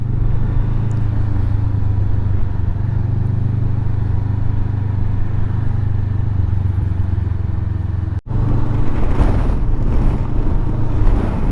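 Strong, blustery wind by the bay at Kotor roars over the microphone in a constant heavy rumble, with a brief drop in the buffeting near the end before it surges back just as loudly.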